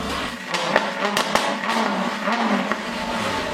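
A damaged Lamborghini Huracan being rebuilt runs with a loud, steady engine roar close by, marked by a few sharp clicks and bursts, with no talking.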